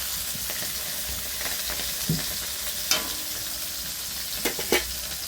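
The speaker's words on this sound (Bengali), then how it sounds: "মাছগুলো ভালো করে এপিট এপিট করে ভেজে নেব।" Tengra fish frying in oil in a pan, a continuous close sizzle with scattered spatters and a few sharp clinks of a utensil turning the pieces.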